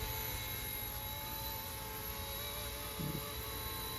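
A small Bell 206 micro RC model helicopter buzzes steadily close by, its high-pitched rotor and motor whine holding constant throughout with no talking.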